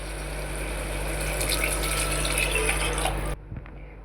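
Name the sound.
water being poured into cooking pot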